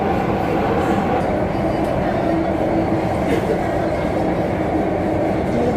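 A Mumbai metro train running between stations near Grand Road: a loud, continuous rumble of wheels and carriage noise from inside the car, steady and unbroken.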